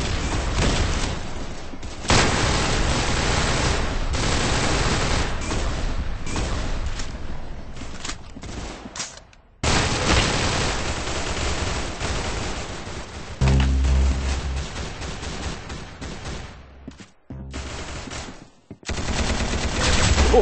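Dense gunfire from the video game Arsenal, with rapid automatic bursts and booming shots running almost without a break, loud and close, cut by a few brief gaps.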